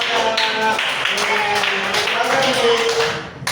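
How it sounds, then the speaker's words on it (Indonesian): A classroom of students claps hands in a brief burst of scattered, overlapping taps, mixed with chattering young voices throughout. "Tepuk tangan."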